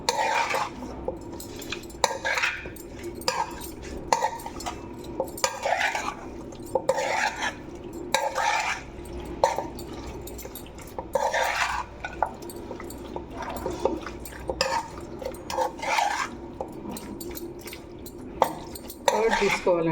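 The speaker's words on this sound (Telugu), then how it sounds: "ఇప్పుడు కొంచెం మిక్స్ చేసుకొని" Chicken tikka marinade being stirred and mixed in a bowl, repeated close scraping and clinking of a spoon against the dish with wet squelching strokes, irregular bursts across the whole stretch, no talk.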